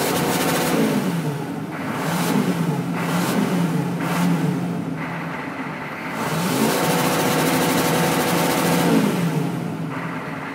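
A 1996 GMC 2500HD with a 6.5L turbo diesel idles roughly, the engine repeatedly surging up and kicking back down in uneven waves, loud and close with no talking.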